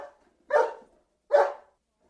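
Dog barking, three short, sharp barks spaced about a second apart with silence between them, close and clear with no other sound.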